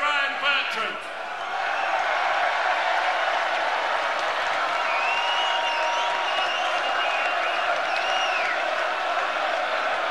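Chelsea fans chant Ryan Bertrand's name through a Champions League stadium celebration, a dense, steady roar of massed voices that never lets up, with thin whistles rising above it.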